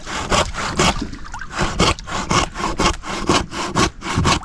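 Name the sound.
saw cutting underwater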